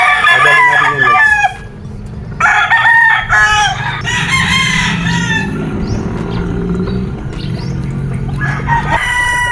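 A nine-month-old gamefowl brood stag crows loudly and close by, with repeated cock-a-doodle-doo calls over a steady rural background hum.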